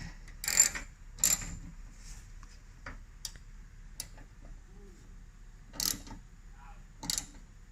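An 8mm Allen key turning a bolt while fitting a hidden winch kit to a 2013-2018 RAM 1500: faint, sparse metallic ticks and short ratcheting clicks, spaced irregularly in a quiet setting.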